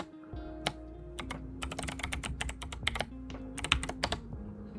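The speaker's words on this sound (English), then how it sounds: "So we're gonna type a password for the user." Someone types a password on a computer keyboard, with a quick, close run of clicking keystrokes in bursts and short pauses, and no speech.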